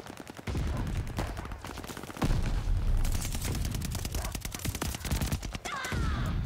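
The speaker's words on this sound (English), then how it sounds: "Oh! Grenades! Too many grenades!" Dense Call of Duty Vanguard multiplayer combat, with rapid automatic gunfire rattling almost nonstop and heavy grenade booms thumping through it, loud and close.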